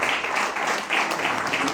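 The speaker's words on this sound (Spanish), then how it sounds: "Reiteramos el aplauso" A Peruvian radio tribute audience applauds once more, a brief dense patter of clapping that fills the short moment at steady loudness.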